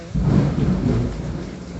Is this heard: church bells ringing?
no